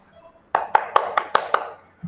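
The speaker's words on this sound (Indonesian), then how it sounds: "Tepuk tangan untuk Ibu Dwi." A small group claps for a presenter at a teachers' training session: six sharp, evenly spaced claps close by, with no talk over them.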